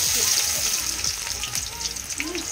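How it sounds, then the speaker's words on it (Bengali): Chopped onion hitting a hot wok gives a loud, steady sizzle and crackle of frying that fills the whole stretch close up, with soft stirring scrapes underneath. "এখানে ভালো করে কড়াইটা গরম হয়ে গেলে, এটা অলরেডি গরম হয়ে গেছে, এখানে পেঁয়াজ দেবো"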